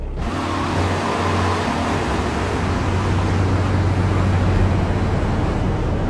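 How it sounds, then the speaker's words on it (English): Car engine running steadily in Grand Theft Auto 3, a low continuous rumble with broadband road and wind noise, loud and constant throughout without any speech. "Keep the engine running."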